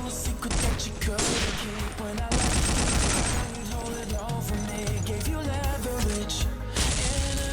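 In an online shooter game, rapid bursts of gunfire crackle almost without a break, and a grenade blast stands out. The sounds are loud and dense, with players' voices mixed in over the action.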